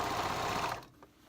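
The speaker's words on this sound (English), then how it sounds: "now I sew" A sewing machine stitches fabric for kids' reversible pants in a fast, steady whir up close, then stops, leaving a faint click or two.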